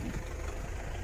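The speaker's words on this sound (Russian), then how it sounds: "Трактор чистит. Вы видите, трактор чистит. Чистит снег, который не перестает идти" A tractor engine runs steadily while clearing snow during an ongoing snowfall, a continuous low rumble with idling character, close and moderately loud with no one speaking.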